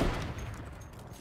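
A heavy sniper rifle fires in a video game, one loud shot at the start followed by a rumbling echo that fades over about a second.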